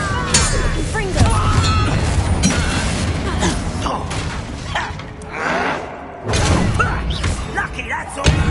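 Fiery Confringo blast spells in Hogwarts Legacy burst out in a run of booming thuds and crashes, mixed with loud voices and combat noise over several seconds.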